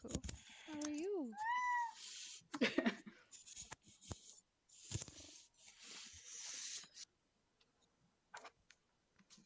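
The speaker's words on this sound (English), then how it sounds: "My kitties are also requesting sustenance." Pet cats meow for food in several rising calls early on, up close, followed by clicks and household clatter with some talk.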